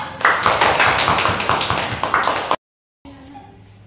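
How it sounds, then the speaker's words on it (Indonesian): Classroom applause for a student group: a dense patter of many hands clapping together, fairly loud and close, then an abrupt cut to silence before faint room sound resumes. "Kita beri aplaus, ayo."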